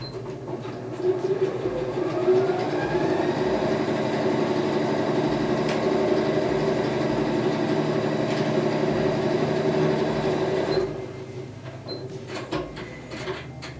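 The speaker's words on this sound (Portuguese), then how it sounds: "Eu vou seguir de novo aqui uma costura com o pé de máquina." A sewing machine with its presser foot runs a long seam on a fabric pencil case, a close, steady mechanical whir for about ten seconds before it stops and a few small handling clicks follow.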